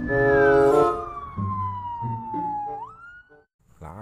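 A toy police car's electronic siren wails loudly and alone, a long falling tone with a brief rising chirp near the end, followed by a short pause.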